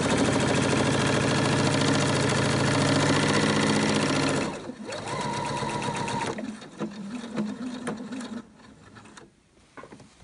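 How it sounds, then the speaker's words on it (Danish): Sewing machine stitching a pleated fabric face mask half a centimetre from the edge, a close, steady rapid whirring run for about four seconds, then shorter bursts and stops. "Og så syr jeg her en halv centimeter inde."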